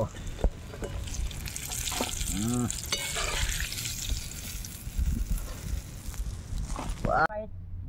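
Chicken pieces fry in hot oil with a continuous crackling sizzle, close and moderately loud, while voices chat intermittently over the cooking.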